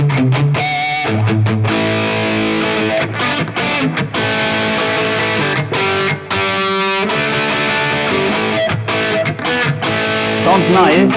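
Electric guitar through a Fractal Audio FM9 amp model set to a crunchy, moderate-gain 1980s rhythm tone, loud strummed chords and chugging riffs with brief pauses between phrases.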